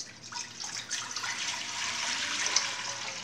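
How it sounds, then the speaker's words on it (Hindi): Two litres of water poured into a pressure cooker for cooking mutton paya, a steady splashing pour running continuously and close by, with no talking. "सबसे पहले 2 लीटर पानी ऐड करेंगे।"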